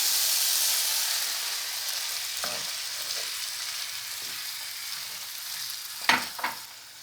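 Artichoke ingredients sauté in olive oil, producing a sizzle that fades from loud to softer, with scattered stirring scrapes and two sharper utensil knocks near the end, close and without speech.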